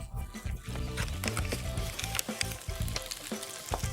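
Potatoes fry with a small piece of butter in a pan that gets shaken, giving a close, lively sizzle with rattling knocks as the potatoes tumble.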